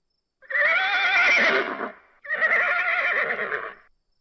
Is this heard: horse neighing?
yes